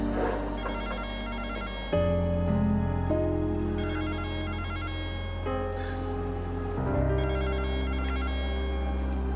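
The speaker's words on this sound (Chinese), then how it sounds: "我必须接这个电话。" A telephone ringtone plays loud and continuous, its repeating electronic melody cycling three times with no voices over it.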